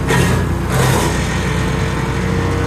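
Shredder machine engine running loud and close with its exhaust fallen off, a harsh, raw roar that holds steady with a slight surge near the start.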